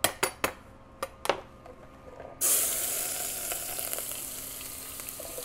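Fajita chili ingredients hit a hot pan with a loud, steady sizzle that starts abruptly and keeps going, after a few sharp clinks of utensils on cookware, for smoked beef fajita chili.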